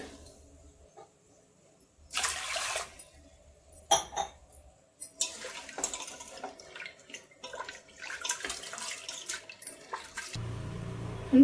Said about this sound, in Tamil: கழுவிக்கலாம் இந்த பருப்பு.